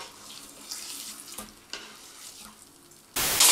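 Meat sizzling in a frying pan, faint and crackling with a few soft clatters, ending in a sudden loud hissing burst.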